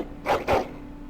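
Two quick, close barks from a dog in the fantasy role-playing game Dragon Age Origins, loud and alone over a quiet steady game hum.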